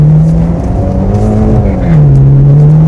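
A Mitsubishi Lancer Evolution X engine drones steadily at high revs on a skidpan, its pitch dipping and rising as the car slides sideways in oversteer, with a faint tire hiss underneath.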